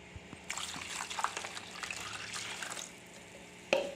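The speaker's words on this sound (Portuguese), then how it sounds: "então eu vou pôr a água" Warm tap water pours steadily into a bowl for bread dough for about two seconds, then stops, leaving a faint clink afterward.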